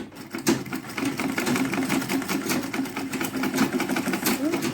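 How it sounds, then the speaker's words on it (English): Sewing machine running steadily while stitching down both sides of a fabric casing on a DIY headband, a continuous close mechanical whirr with rapid needle ticking and no talk. "I'm going to stitch both sides so that we can secure it"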